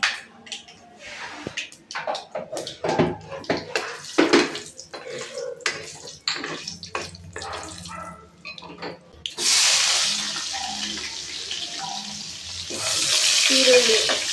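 Pots and utensils clatter and scrape, then a loud sizzling hiss rises as mustard seeds, cumin and peanuts hit hot oil, the frying steady and close in a home kitchen.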